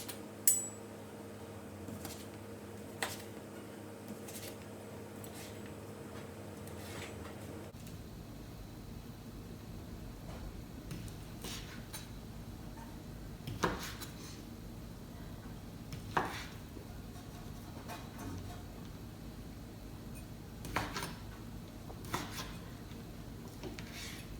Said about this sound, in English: We're gonna slice up the sausage